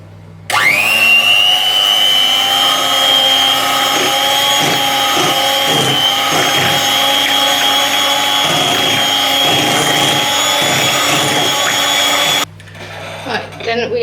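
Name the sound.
electric mixer beating sugar for carrot cake cupcakes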